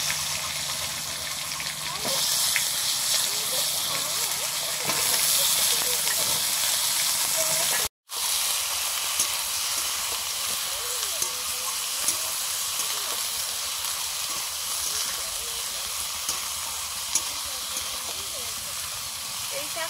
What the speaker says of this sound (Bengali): হলুদটা দিলে আগে ভালো হতো, তেলটা তাহলে ছিটকে যেত না।